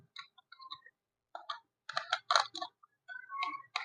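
A stripped wire being pushed into a switch board socket, giving short scattered clicks and rustling scrapes of metal and plastic, close and fairly faint, with no voices.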